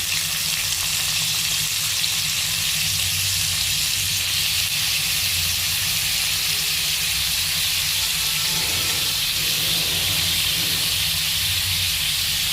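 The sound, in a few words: chopped onions frying in hot white oil in a wok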